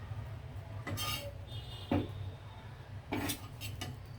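Bread slices being turned over in a pan while making bread custard pudding: a few distinct utensil clinks and scrapes against the pan at irregular moments, with a soft steady background hum between them.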